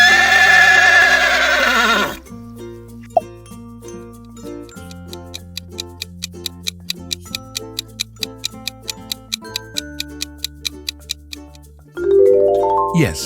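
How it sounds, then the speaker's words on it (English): A horse whinnies loudly at the start, a high quavering neigh lasting about two seconds, then music with a steady ticking clock beat follows, and a second rising whinny breaks in at the end. "Do you recognize this neighing sound?"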